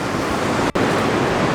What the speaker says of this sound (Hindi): देखिए जल का बहाव देखिए कितना तेज़ है